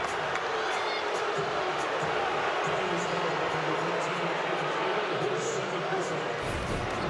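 A college basketball crowd in a Delaware vs BYU game groans and boos at a foul call, a steady rumbling murmur under a commentator's talk, moderately distant and continuous.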